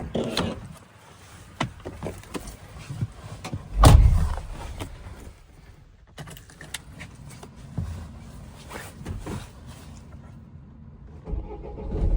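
A Renault Trafic / Opel Vivaro van with a 1.9 dCi diesel engine and a faulty mass airflow sensor cranks and starts with a loud burst, then settles into a low running rumble with some clunks and knocks around it.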